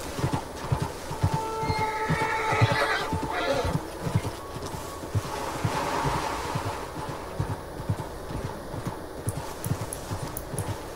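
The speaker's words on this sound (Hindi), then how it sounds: "वहाँ पे एक घोड़ा दिखता है मेरे को" A horse in Red Dead Redemption 2 trots with a steady, rhythmic clip-clop of hooves, and a loud neigh rises over the hoofbeats.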